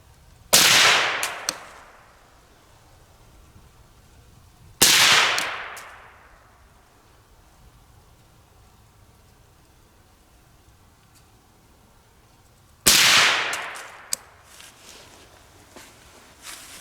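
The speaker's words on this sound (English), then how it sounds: "we'll shoot a group suppressed" A suppressed 300 Blackout rifle fires three separate shots at a range, each a sharp loud crack with a short fading tail, spaced several seconds apart, with no talking.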